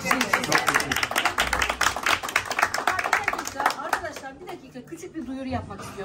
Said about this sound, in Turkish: Herkes alkışınız bu olsun, güzel gösteriye bekleriz.